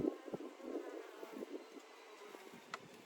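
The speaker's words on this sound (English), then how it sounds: "There are a few more bees down here that I will remove as long as I'm here." Honey bees buzz around a 24-frame Layens horizontal hive during a spring inspection, a faint, continuous hum with brief louder passes of individual bees nearby.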